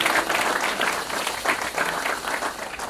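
A congregation at a church service claps for God in sustained, dense applause from a crowd, fairly soft and continuous throughout.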